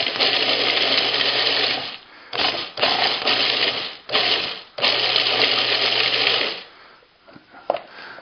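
A food processor pulses a salt and brown sugar cure with coriander for beef, loud grinding bursts of the motor separated by short pauses, ending with a few faint clicks and rattles.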